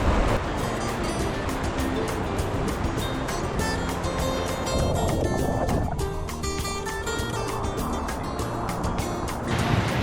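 Ocean waves break on a Hawaii beach, a loud, continuous broadband roar and wash that fills the whole stretch with steady surging, heard close and without any talk over it.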